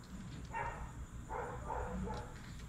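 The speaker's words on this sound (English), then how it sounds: "The dogs are going crazy here today." Dogs bark faintly several times in scattered bursts in the distance, heard from indoors where someone works at an airbrushing setup, with a low steady hum underneath.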